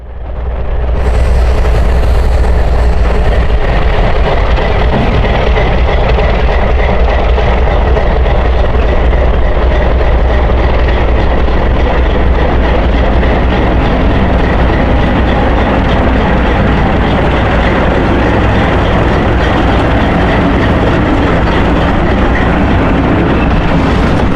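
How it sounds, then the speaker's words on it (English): ALCO locomotive 1044 hauls a boxcar on a switching run to a Georgia Pacific plant, its diesel engine a loud, steady rumble with continuous rail and wheel noise throughout. "the 1044 would pick up another boxcar and head back to Georgia Pacific for some switching duties"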